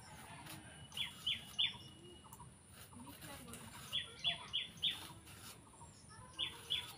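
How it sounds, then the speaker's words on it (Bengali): Birds call from a star fruit tree above a village house roof, where parakeets come to feed, giving sharp chirps in quick clusters of two to four at moderate distance over a soft outdoor background. "পাখির ডাকগুলো শব্দ ভালোই লাগে না"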